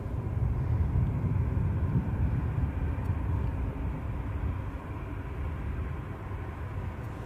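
A Ryanair airliner taxis out at Edinburgh airport, a steady low jet rumble and whine heard from a distance, easing slightly over the seconds.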